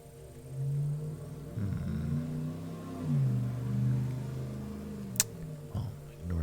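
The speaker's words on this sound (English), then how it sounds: "ignore that very loud car that just drove by." A loud car engine drones past outside, rising and falling across a few seconds of revving with a sharp tick near the end, heard alone without talk.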